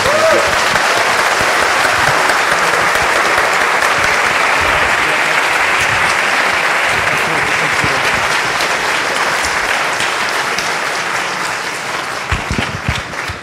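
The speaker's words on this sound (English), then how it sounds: "Please give our speaker a final round of applause." Sustained applause from a large audience after a FOSDEM 2016 talk, steady and loud for most of the stretch before tapering slightly toward the end.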